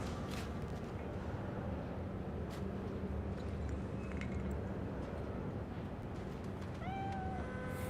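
A cat meows faintly near the end over a steady, noisy background hiss, a short rising cry with no talk.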